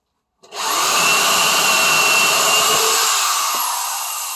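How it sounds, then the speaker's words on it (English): A power drill starts abruptly and whines steadily at high speed, loud and close, with slight grinding changes as it bores a hole into wood. "put my bit inside that hole, and drill down"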